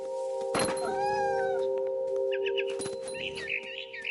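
A cat meows a few times in the game What Remains of Edith Finch, with short tonal cries rising over a steady humming background, alongside bird-like chirps near the end.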